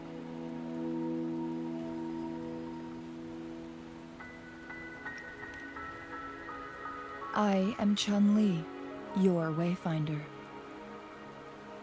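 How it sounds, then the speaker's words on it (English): Steady rain hisses throughout in the video game Wuthering Waves while a sustained musical tone plays, and a voice speaks briefly near the end over the rainfall. "Don't worry, the rain won't last much longer."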